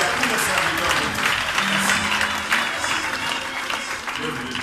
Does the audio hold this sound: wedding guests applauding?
yes